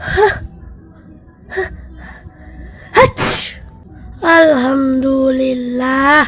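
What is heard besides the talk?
sneeze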